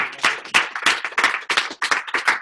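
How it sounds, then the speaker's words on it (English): A small audience applauds with quick, distinct claps in a brief, close burst. "Let's send him a round of applause."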